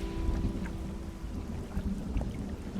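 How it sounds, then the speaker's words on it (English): Storm ambience in a fishing simulation game: a steady low rumble of thunder with rain hiss running continuously underneath, moderately loud and with no voices. "I hear a storm. Don't like that."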